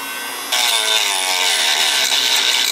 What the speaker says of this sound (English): I'm barely touching it, and the Dremel's hardly moving.